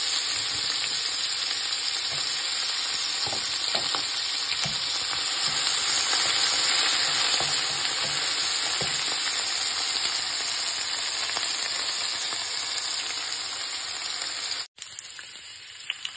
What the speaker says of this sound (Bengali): আলুগুলো এখানে আমার একটু ভাজা ভাজা হয়ে গেছে।